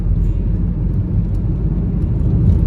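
A family car driving along the road to Kondagattu: a steady, loud interior engine and road rumble with a low whir, constant throughout.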